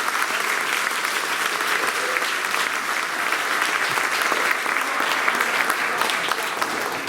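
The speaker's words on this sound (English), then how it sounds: "Give them another round of applause." An audience claps steadily and loudly at a grade 8 spring school concert, a dense, even wash of applause that carries on for the whole stretch without letting up.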